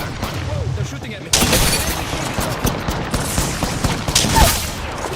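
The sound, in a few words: gunfire in the video game Apex Legends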